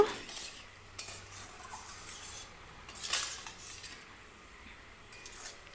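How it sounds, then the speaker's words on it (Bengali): A spoon stirs a vegetarian potato and papad mixture in a pan after about a cup of water is added, soft scraping strokes with faint sizzling and a few metallic clinks, close and quiet. "এক কাপের মতো জল দিয়ে দেব ভালো করে নেড়ে নেব"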